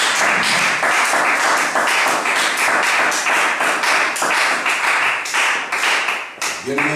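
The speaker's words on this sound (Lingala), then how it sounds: "Acclamons pour le Seigneur Jésus-Christ." Congregation at a church prayer service clapping rhythmically and cheering for Jesus Christ, loud and continuous close by, with voices mixed in.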